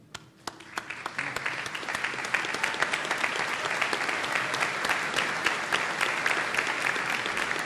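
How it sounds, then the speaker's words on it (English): An audience at a spring university commencement applauds new graduates, the clapping starting sparse with a few sharp claps and quickly building into steady, dense applause that carries on throughout. "give a nice round of applause for our new graduates"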